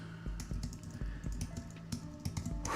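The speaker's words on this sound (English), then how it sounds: "Just typing in a few things here to make the chat active." Computer keyboard typing, a run of quick irregular clicks and taps close to the mic, fairly quiet, with no talking.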